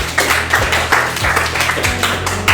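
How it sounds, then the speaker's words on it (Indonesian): A classroom group claps hands in a loud, close, fairly regular rhythm of bursts, with deep low thumps underneath and no talking. "tepuk tangan dulu untuk kita semua"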